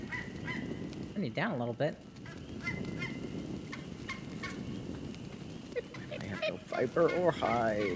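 Creatures in ARK let out loud, wavering honking and gobbling calls in short bursts, over a steady game ambience while people talk throughout.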